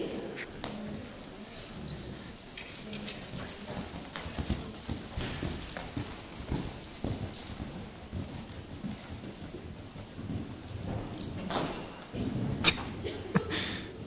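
Horse hooves clip-clop in an uneven rhythm at moderate distance, with a few louder thuds near the end.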